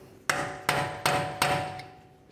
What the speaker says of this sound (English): Now let's take a hammer and punch, come right in the center here and break this free.